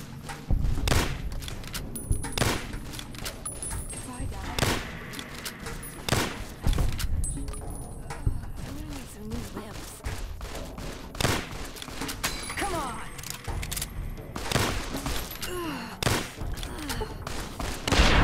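Rapid, dense 10mm pistol gunfire in Fallout New Vegas blends with other shots and thuds in a constant loud firefight that runs the whole time, with occasional voices mixed in.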